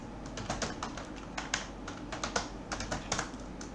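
Fingers type HTML code on a computer keyboard, a quiet, close run of irregular key clicks in short bursts with brief pauses between them.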